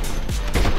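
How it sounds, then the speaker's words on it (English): Video game gunfire as characters shoot each other, two quick loud bursts of shots close together over a steady game background. "they were just shooting each other"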